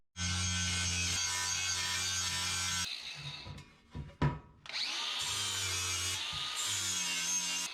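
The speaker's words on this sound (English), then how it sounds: "get into some grinding" A grinder bites into metal while fabricating fresh-air duct parts for a 1951 Chevy Fleetline custom, a loud sustained whine that drops away briefly in the middle with clatter, then resumes strongly.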